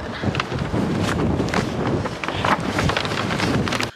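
Gusty outdoor wind buffets the microphone throughout, a dense, continuous roar with rumbling low-end bursts and no other clear sounds, cutting off abruptly near the end.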